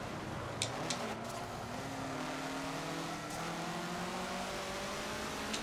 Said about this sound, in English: Oh, he's in the new Porsche. Sounds like it's got a V12 in it.